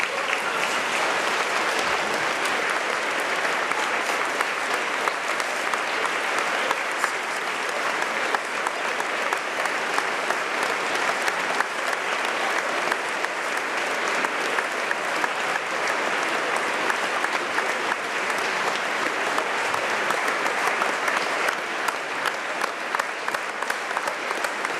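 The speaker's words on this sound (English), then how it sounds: "Please stand and applaud Sir Ben Ainsley." A standing school audience gives a long, sustained round of applause for Sir Ben Ainslie, dense even clapping from a large crowd continuing steadily for about twenty-five seconds.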